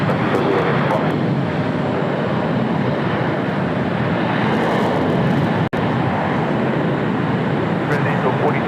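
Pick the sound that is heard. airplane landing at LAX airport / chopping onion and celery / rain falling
airplane landing at LAX airport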